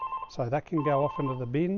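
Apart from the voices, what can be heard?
phone ringing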